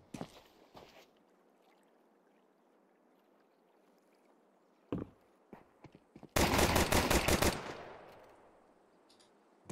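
Gunfire on the Anubis map during a competitive Counter-Strike match: a few sharp isolated shots, then a loud sustained burst of rapid fire that fades into a lingering echo.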